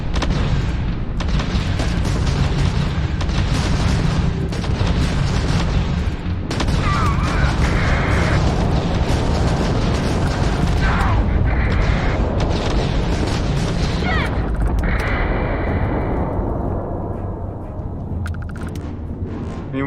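Weapons fire in a Starfield space battle: a sustained barrage of loud booms, explosions and rapid gunfire running almost unbroken, with a few bright electronic tones, easing slightly near the end.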